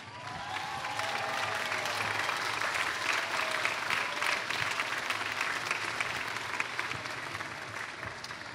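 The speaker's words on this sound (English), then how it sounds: "I would love for you to give a big round of applause to Orlando Mayor Buddy Dyer" Crowd applause at an outdoor fireworks show in Orlando, a steady dense wash of clapping that holds evenly for several seconds, with faint whoops and cheers rising through it.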